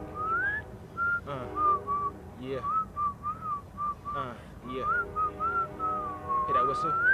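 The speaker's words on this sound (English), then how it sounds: "Let's put that whistle in there." A person whistles a melody in sliding, wavering phrases for use as a music sample. Brief vocal sounds and other noises break in between the whistled notes.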